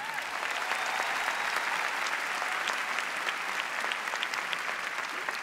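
A large crowd at an awards ceremony for a supporting actor in a drama series applauds in an even, dense wash of clapping that continues without a break.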